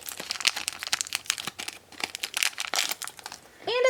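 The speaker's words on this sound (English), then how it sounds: "I'm gonna go ahead and snip the little corner open." Plastic Shopkins Real Littles Freezer Series toy packaging crinkles and crunches in a run of quick close bursts as a corner is snipped open, with a brief voice at the end.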